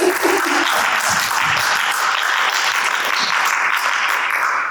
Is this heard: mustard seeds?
no